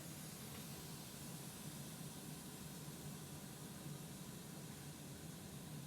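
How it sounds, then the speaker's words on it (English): A steady, loud hiss of air and broadband rushing from the exhaust of a Ford F-350 with the 6.7 diesel that keeps dying and won't start, with a low rumble underneath, continuous and even throughout. "You probably can hear that noise coming from the exhaust."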